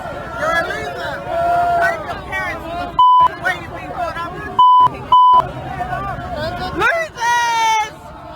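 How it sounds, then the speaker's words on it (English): Sharp electronic beeps cut in three times over a babble of speech and crowd noise, two of them close together, each a clean steady tone that briefly drowns out the chatter. "There's a lot of beeping there"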